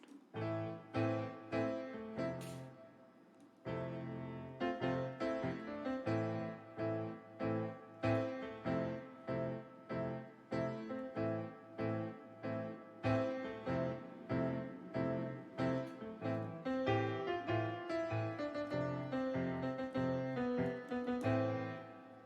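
A solo piano plays a lively melody with quick, rhythmic notes and occasional chords, fairly quiet and uninterrupted.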